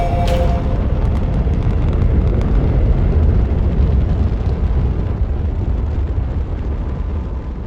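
A rocket launch in the video game Astroneer gives a loud, sustained roaring blast, a dense rumble that holds steady for several seconds and then eases slightly at the end.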